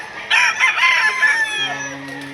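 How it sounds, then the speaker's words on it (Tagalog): Roosters crow loudly and close by at a livestock auction market in Lipa, Batangas, one long call followed by more fowl calling and clucking in the background. "Yan yung parada ng mga manok dito sa Lipa,"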